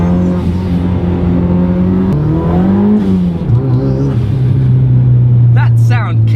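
Turbocharged Mazda Miata with about 300 horsepower, engine droning steadily under boost around 4,000 rpm with a pitch dip and recovery, heard from inside the cabin under talk.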